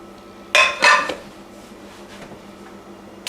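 Raw turkey burgers set one after another into a cold non-stick pan, giving two short, close clattering knocks of food and metal, then near quiet.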